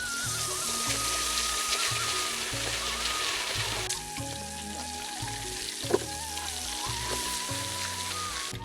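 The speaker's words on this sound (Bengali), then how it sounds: "তেল গরম হয়ে গেছে, মোরগটা এখন ভাজার জন্য দিয়ে দেব।" Chicken sizzling in hot mustard oil, a steady close frying crackle with faint stirring and occasional utensil clinks, no voices.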